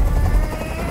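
A helicopter hovers in the video game Detroit: Become Human, a dense, steady low rotor rumble with fast chopping texture filling the moment, loud and close with no voices.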